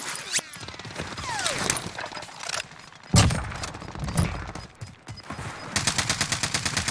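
MP7 gunfire in a multiplayer video game, scattered single shots and short bursts, closing with a fast rhythmic automatic burst, mixed with thuds and other in-game effects at moderate level.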